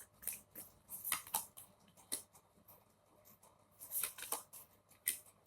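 Tarot cards being drawn and shuffled from a deck, a series of light papery flicks and soft slaps close up in uneven bursts, quiet and without talk.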